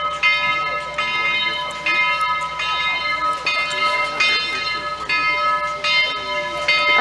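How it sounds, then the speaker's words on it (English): Steam locomotive 4501 approaches with its bell ringing in a steady, repeated clang over the rumble of the train, fairly close, with people talking faintly in the background. "I do hear the train coming. That bell is superior."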